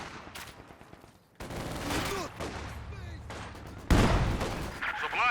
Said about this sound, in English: big Zis barrage and a grenade out as well